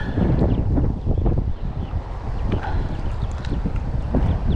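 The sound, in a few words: wind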